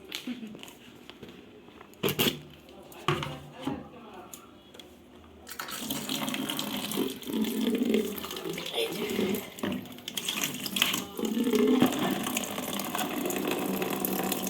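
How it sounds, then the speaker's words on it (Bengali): Tap water running into drinking-water flasks at a household faucet, a steady splashing fill that starts a few seconds in and continues loudly with gurgling changes as each flask fills. "এই সবে জল এসছে কলে, আমি খাওয়ার জলটা ভরে নিই।"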